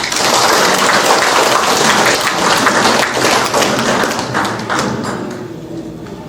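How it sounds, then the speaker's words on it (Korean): Dense, sustained audience applause fills a hall at an alumni association's annual general meeting and chairman inauguration ceremony, loud and steady before thinning slightly toward the end. "박수로 동의해 주시기 바랍니다."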